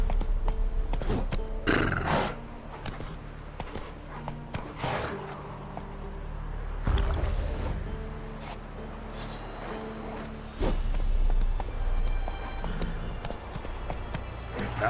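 Roach, a horse in The Witcher 3: Wild Hunt, gallops with sharp, close hoofbeats in uneven bursts, punctuated by a few snorts and a whinny.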